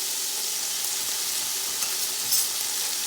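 Vegetable fried rice sizzles in a hot pan, a dense even hiss of frying with a few soft stirring scrapes near the end, close up and without talking.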